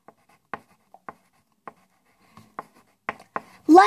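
A pen writes an answer on paper in short, separate scratches spaced through the quiet, ending as a voice starts to speak.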